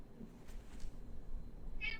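A house cat gives a single short, fairly clear meow near the end, following quiet low room noise with no other distinct sounds.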